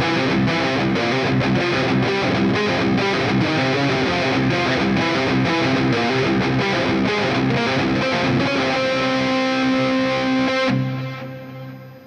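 Ambient lead electric guitar played through a Quad Cortex with cave reverb and delay, sustained distorted notes ringing steadily for about eleven seconds before cutting off into a short reverb tail.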